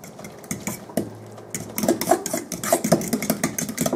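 Banana bread batter with butter, mashed banana and baking soda being mixed in a bowl: scraping, clinking strokes of a utensil against the bowl, growing busier and more rhythmic toward the end, close and fairly quiet with no talking.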